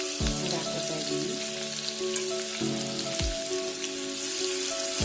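Finely chopped onion frying in hot oil in a pan, a continuous crackling sizzle at close range with a few low clunks from the pan or spoon, and no voices.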